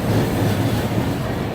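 A train rumbles and clatters continuously nearby at a station platform, a loud, dense roar of wheels and carriages with a faint metallic squeal, and no voices.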